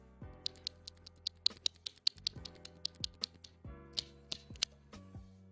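Linear Yoke Trash Panda keyboard switches are pressed in an irregular series of crisp, close clicks and clacks, some in quick bursts, with scratchy bottom-out taps and no talking.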